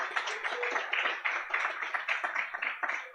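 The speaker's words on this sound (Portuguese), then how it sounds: "Uma salva de palmas para ele." Steady audience applause, a dense crowd of hand claps going on for several seconds without a break.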